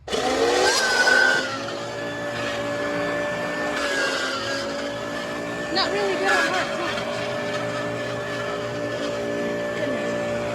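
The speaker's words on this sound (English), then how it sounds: "Next up is the White Westinghouse hand vacuum." White Westinghouse hand vacuum running with a steady high motor whine and tonal hum, close and constant, while someone speaks briefly near the start.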